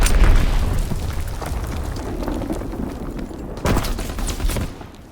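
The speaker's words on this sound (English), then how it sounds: "Bomb incoming. Get to cover." Bomb explosions in the World War II shooter Call of Duty: WWII: a heavy, rumbling boom opens, dense battle noise rolls on, and a second loud blast lands near the end before fading.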